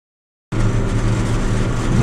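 John Deere 6 tractor towing a Saphir meadow harrow across grassland at about 10 km/h, a steady loud engine drone that starts abruptly after half a second of silence.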